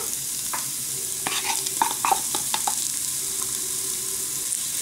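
Onions frying in a Cookeo multicooker for risotto give a soft steady sizzle, broken by a cluster of sharp clicking spatula strokes as they are stirred, with no talk.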